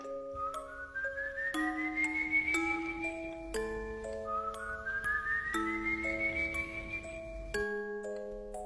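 An eerie whistled tune evokes the El Silbon legend: slow rising glides and held notes, played twice in a repeating phrase. The whistling is clear and steady throughout, with faint tonal layers beneath it.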